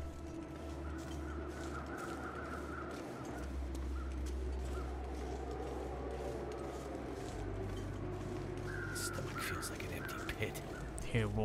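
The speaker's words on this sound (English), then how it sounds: "Okay, so we've got crows there." Crows caw faintly in the snowy wilderness of The Long Dark video game, a few distant calls under a low steady wind-like drone, with someone talking quietly over it.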